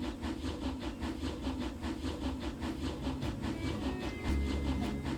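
A train runs steadily in Railroad Corporation, a continuous low rumble with rhythmic clacking pulses and a faint hiss, even and moderately quiet throughout.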